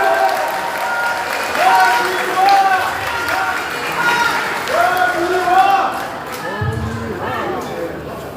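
Applause from the crowd at a Democratic Party rally in Jeju, a joint speech event for party leadership candidates. The clapping rises and falls steadily for several seconds while an announcer speaks over it.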